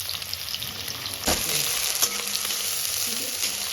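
Small onions for chicken tehari frying in hot oil in a pan, a close, steady sizzle with a couple of stirring clatters and scrapes, no voices.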